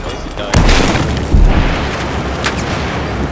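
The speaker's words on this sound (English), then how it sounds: "There's just explosions going off like fucking crazy!" Explosions boom in the video game Battlefield 4, two heavy blasts close together over a constant roaring background of battle noise.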